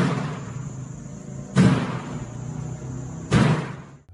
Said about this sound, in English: a man records a lobby door that keeps knocking loudly and opening and closing by itself